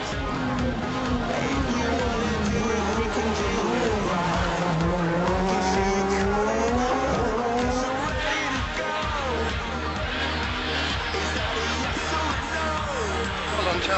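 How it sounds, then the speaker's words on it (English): M-Sport Ford Fiesta rally car charging through the town of Buncrana on the Donegal International Rally, engine roaring loud and close throughout with rising and falling revs as it shifts, with a co-driver's pace-note voice faintly beneath. "As they charge through Buncrana, co-driver Rory Kennedy has been impressed by the 2nd generation Fisher's performance in Donegal"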